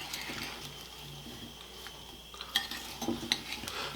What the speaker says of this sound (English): And we're going to mix this together